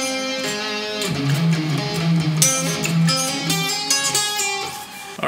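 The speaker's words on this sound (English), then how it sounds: "here's what all of section one sounds like." An overdriven electric guitar plays the whole first section of a solo, flowing melodic phrases with slides and held notes, loud and upfront, no one speaking.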